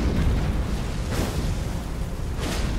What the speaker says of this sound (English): you don't want to get caught by that big explosion